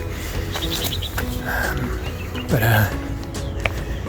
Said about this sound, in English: I'm sure you can hear that in the background with the birds.